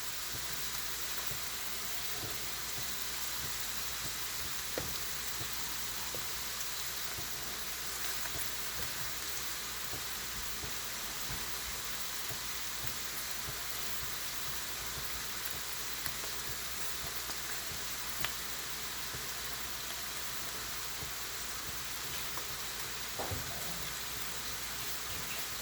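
Finely chopped green chillies sizzle in hot oil in a pan while chickpea masala with coconut is cooked, giving a steady, soft, even crackle that goes on without a break and with no voices.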